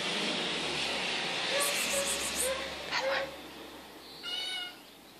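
A cat meows several times in short, plaintive calls, against a steady background hum.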